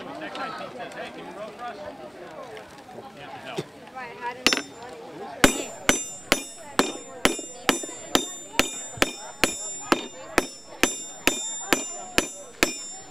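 A blacksmith hammers iron on an anvil, drawing out a nail. Voices talk at first, then about twenty loud, ringing metallic strikes follow in a steady rhythm of roughly two per second, close by.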